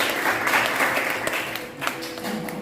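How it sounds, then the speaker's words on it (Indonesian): Students in a classroom lesson clap together in steady, continuous applause that fills the short moment without a break. "berikan aplaus untuk kalian semuanya"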